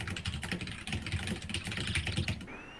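Rapid, close computer keyboard typing, a dense run of quick clicking keystrokes with no voices over it.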